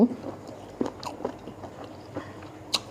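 Someone chewing sliced pork belly up close, with soft wet bites and occasional crunchy smacks scattered through a quiet background, no talk over them.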